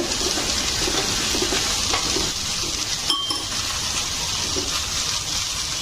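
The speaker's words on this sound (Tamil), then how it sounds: "இப்போ இந்த சாம்பார் பார்க்கலாம், கொதிச்சுன்னு இருக்கு" Radish sambar bubbling in a pot on the stove, a steady close hiss of boiling with a single sharp clink partway through and no voices.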